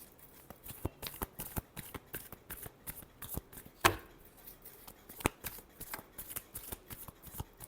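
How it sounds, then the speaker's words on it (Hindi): A deck of tarot cards shuffled in a final shuffle, a steady series of crisp, rhythmic card flicks and snaps with a sharper slap midway, faint and close with no talking. "last shuffle"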